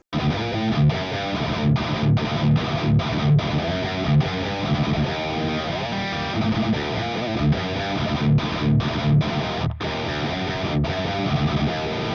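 A riff on electric guitar runs through an overdrive plugin used as a clean boost, drive low, giving a mildly crunchy tone with rhythmic chord stabs and brief gaps, played continuously and up front.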